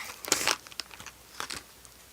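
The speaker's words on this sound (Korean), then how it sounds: "한번 뜯어볼게요" Packaging from a stationery store torn open close up, a few quick crinkling rips in two short clusters, crisp and near with quiet pauses between.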